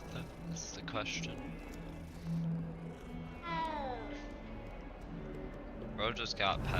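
A cat meows in Hogwarts Legacy, a few faint mews over a busy game soundtrack with steady background noise and some chirping.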